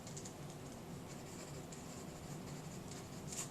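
A pencil scratches steadily across paper at close range while a lecturer rewrites a note, a continuous dry scraping texture with faint strokes and small bursts, and no voices over it.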